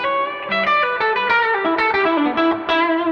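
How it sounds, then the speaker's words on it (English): An electric guitar plays through a Fender Deville Deluxe tube amp with spring reverb, a quick run of bright, smoothly distorted notes washing into a lush reverb tail, close and alone with no talking. "I really dig how smooth the reverb sounds on this."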